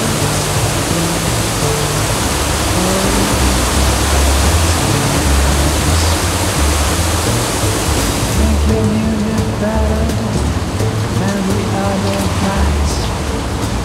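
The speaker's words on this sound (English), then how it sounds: "Rain on water." Rain pours onto open sea water during a storm at sea off the Tuamotus, a dense, steady hiss of countless drops striking the surface, loud and continuous with no talk, easing slightly in brightness partway through.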